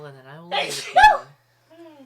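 One sharp human sneeze bursts out in a small room, close and loud, with someone talking just before it and a brief voice afterward.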